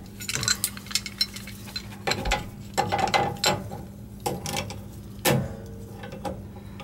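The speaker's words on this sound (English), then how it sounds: "Tighten up a gas cock. See, there's two nuts there, but you can tighten it." A wrench tightens the two nuts on a gas cock fitted to a gas water heater, making bursts of ratcheting clicks and metallic scrapes in irregular groups, close by and fairly quiet.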